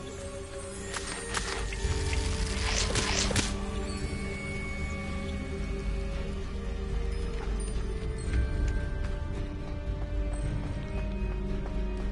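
A waterfall in the Hogwarts Legacy game world gives a steady, full rushing wash of falling water, broad and continuous, with a few brief splashy accents near the start and no voices over it.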